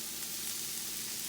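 Peppers and onions sautéing alongside steak in a pan, an even, soft continuous sizzle throughout with no voices.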